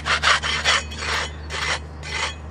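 Hard, crusty European red clay tennis court surface with moss and algae buildup, scraped by a tool in repeated rough rasping strokes, loud and close with short gaps between strokes and no voices.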